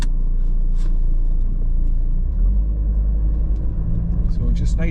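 A car driving out along a stony track, with a loud, close, steady low engine rumble and uneven bumping that grows heavier toward the end, plus a few sharp knocks and rattles.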